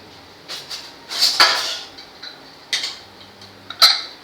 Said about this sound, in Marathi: हे बघा, मी झाकण लावलं आहे.